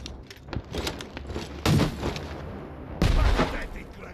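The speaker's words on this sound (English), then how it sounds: "Grenade launcher." Grenade launcher shots and explosions in The Walking Dead: Saints & Sinners – Retribution, two heavy booming blasts among smaller impacts and clatter, loud and close, with a voice speaking between them.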